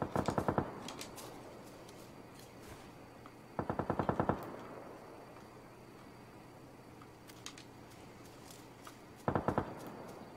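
Rapid automatic gunfire bursts from a first-person PUBG match, three short loud volleys separated by quieter stretches with faint scattered clicks.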